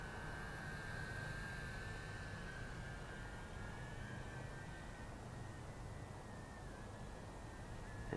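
An RC aircraft motor on its maiden flight throttles up into a steady, loud whine with a thin high tone, holding constant and close throughout with no talk over it.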